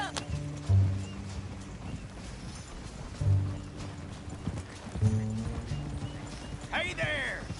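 Horse hooves clip-clop at a gallop in Red Dead Redemption 2, a steady rhythmic thudding carried under game music and effects, with a brief whinny near the end.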